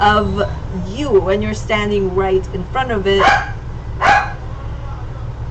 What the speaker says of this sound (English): I'm really sorry about the noise my dog is making.